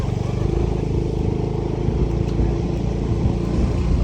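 A motorcycle rides along a creek path, its engine a steady low drone with rough clattering and splashing texture, heard up close with a voice faintly present.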